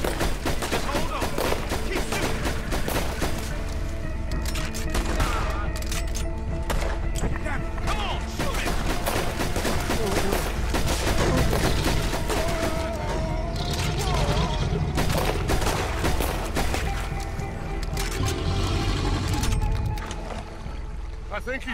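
Sustained gunfire in Red Dead Redemption 2, repeated shots and booms blending into a dense, loud barrage over a swampy outdoor scene, with voices talking throughout.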